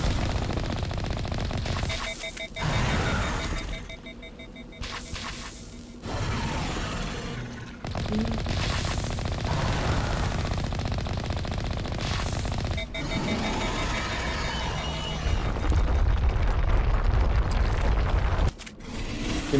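The Mako vehicle in Mass Effect Legendary Edition firing, long sustained bursts of mechanical cannon fire with heavy booms, pausing briefly between volleys and resuming loudly.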